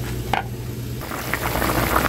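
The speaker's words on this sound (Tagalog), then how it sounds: "kumukulo na yung beef natin" Beef boils and sizzles in a pot, giving a loud, close, steady bubbling hiss with a low hum under it. Soft pops and small splashes rise toward the end.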